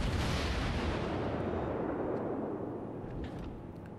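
A warship's main guns fire in World of Warships, a heavy booming blast that rolls out into a long, slowly fading rumble, loud and without speech.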